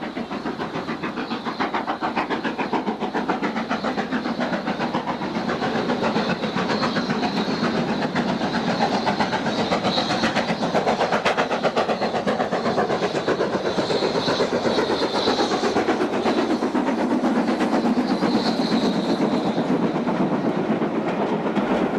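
Steam locomotive train running on the Settle and Carlisle line, a continuous loud rumble with rail clatter, steady throughout with no talk.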